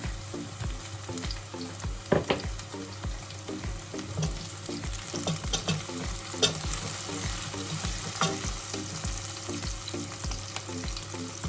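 Blended pepper sauce hits hot oil in a pot of turkey ayamase stew, giving a loud, steady sizzle and crackle with scraping stirring strokes throughout, close up and without talk.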